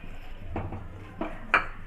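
Raw rice and moong dal are dry roasted on a tawa over a stove, with a few short metallic scrapes and clinks as a utensil stirs the grains in the pan, close and alone.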